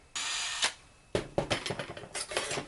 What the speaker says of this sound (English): So I'm just going to drill a hole everywhere I put a mark.